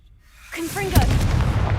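A Confringo blasting spell goes off in Hogwarts Legacy, a short rising magical whoosh followed by a heavy booming explosion that rumbles loudly for a moment after.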